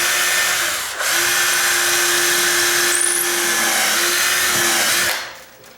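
A power drill runs in one steady, loud whine for about four seconds while driving a bit into a tall sagging door near the hinge, then spins down and stops, with no talking.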